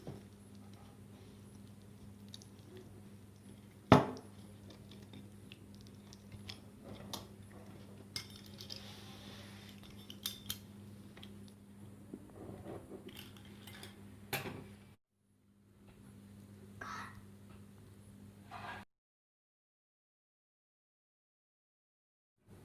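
A freshly baked chicken cheese pizza is cut in the pan, giving scattered metallic clinks and scraping taps with one sharp knock early on, fairly quiet, before the sound drops into silence at the end.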